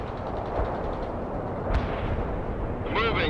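Artillery fire support in the real-time strategy game World in Conflict, with heavy booming blasts and rumbling impacts over battlefield noise and a brief sharp report, with game sounds and radio-style chatter near the end.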